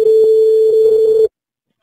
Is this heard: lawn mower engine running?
no